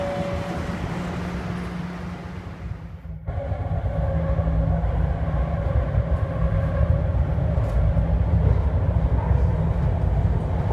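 A train on São Paulo's metro and rail network rumbles along a line toward Varginha, a loud steady roar and clatter that swells after a few seconds and carries on without speech.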